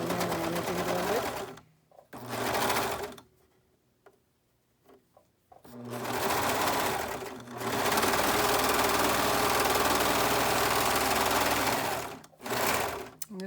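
A sewing machine runs in fast, steady bursts while stitching baby kimono fabric, close and loud, stopping briefly between runs with small clicks and handling noises in the pauses.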